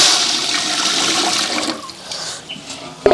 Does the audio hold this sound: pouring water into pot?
yes